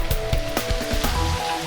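Artificial rain from a rain machine falls on an outdoor test course, a dense, steady patter of drops hitting the surface, close and continuous.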